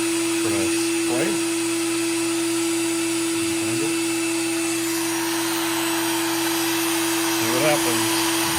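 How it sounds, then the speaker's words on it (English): A Next Wave Shark SD100 CNC router engraves a double-color sheet with a constant high-pitched motor whine, while a few brief voice sounds come through on top. "Turn on the router."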